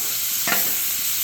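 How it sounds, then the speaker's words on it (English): Ribeye steak bites sizzling in butter with garlic and herbs, a steady close frying hiss with one brief stirring scrape in the middle, no talk. "you want to let it just cook in that flavor right there for a minute. Get all them garlic and herbs."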